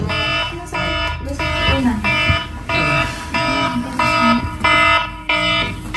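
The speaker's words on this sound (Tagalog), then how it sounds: "nag-a-alarm na yung cellphone mo" A cellphone alarm rings in a repeating pattern of bright electronic tone bursts, loud and close, with people talking and murmuring underneath.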